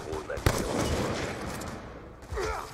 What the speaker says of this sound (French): le petit bruit du headshot et tout, le headshot en rouge, même